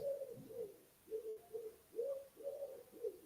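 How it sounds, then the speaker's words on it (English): A pigeon coos nearby in soft, repeated rounded calls, several phrases in a gentle rhythm, faint and alone. "And as we are serenaded by the pigeon, a beautiful pigeon."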